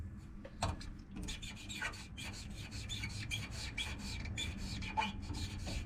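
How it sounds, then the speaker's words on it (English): Exhaust pipe on a Camaro being cut, a faint rhythmic rasping and scraping with repeated short strokes, close by and steady, with no talking. "I'm gonna cut right about there."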